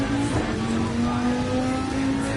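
A race car engine held at full throttle on the Nürburgring endurance track in a racing game, a steady droning tone with sustained pitch, moderately loud and continuous.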